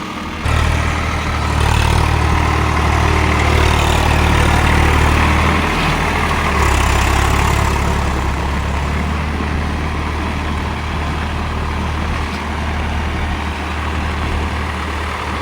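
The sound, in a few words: Swaraj 744 XT tractor running with rotavator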